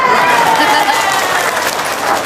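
An audience at a religious talk claps: steady, close, continuous applause with crowd noise, holding loud for about two seconds.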